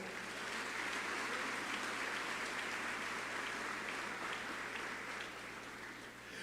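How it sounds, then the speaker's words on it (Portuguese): A church congregation applauds, a steady dense wash of clapping from many hands that holds for several seconds and then eases slightly, heard from a moderate distance with no talk over it. "E dê um aplauso a ele, por favor."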